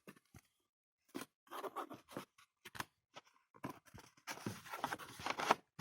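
A cardboard box is opened with sharp, irregular scrapes and crinkles of cardboard and packing, quiet and close, with pauses between bursts and a denser flurry of rustling at the end.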